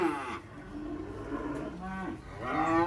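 Cattle bellow in long, loud, close moos, two calls with a short pause between, while being unloaded from a livestock truck.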